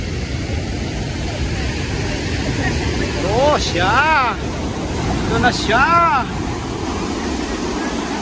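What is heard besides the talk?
Geiranger waterfall rushing water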